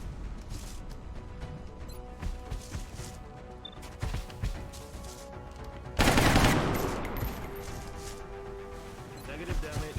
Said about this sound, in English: Engaging hostiles with fire.